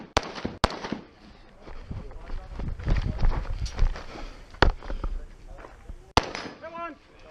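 Pistol gunshots ring out at a shooting match stage as a shooter fires from a barricade: several sharp, loud cracks spaced irregularly, with voices and movement between them.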